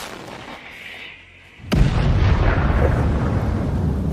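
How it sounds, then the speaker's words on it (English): An artillery unit in Ukraine fires a single loud, sharp blast that gives way to a long rolling rumble, heard after a quieter stretch of background noise. "An artillery unit opens fire."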